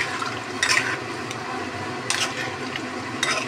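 Water added to a pan of frying spice paste, bubbling and hissing with a few splashy surges over a constant simmer.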